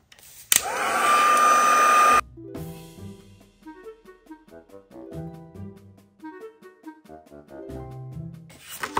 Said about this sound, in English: I'm going to take the heat tool.